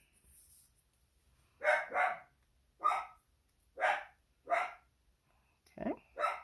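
A dog barks repeatedly, close and fairly loud: six or so sharp barks, some in quick pairs, spaced across a few seconds in an indoor craft-room setting.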